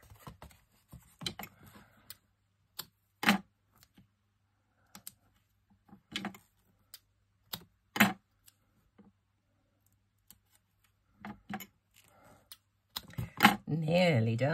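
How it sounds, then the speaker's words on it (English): Sticky tape pulled and pressed onto a handmade paper card for an advent calendar, heard as scattered sharp crackles and short tearing rips, with a louder rough burst of tape noise at the end, close and fairly quiet. "And some more tape on this chap."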